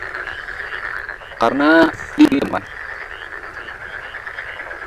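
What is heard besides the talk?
frog croaking while being eaten by a snake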